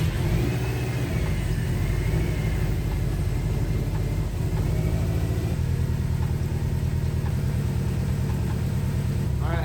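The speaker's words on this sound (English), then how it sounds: "The engine sounds good." A rebuilt Subaru STI engine idles steadily and close, a low even rumble with a faint whir, running without pause throughout.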